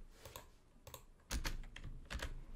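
Someone types on a computer keyboard while writing a Python and PyQt5 application, giving soft irregular clicks followed by a few sharper, louder keystrokes, with no speech.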